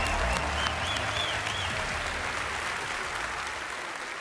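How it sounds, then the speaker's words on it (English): An audience applauds at a Bethesda E3 conference with steady, dense clapping and a few whoops. The sound stays loud and even throughout, then eases off slightly near the end, with no speech over it. "another round of applause"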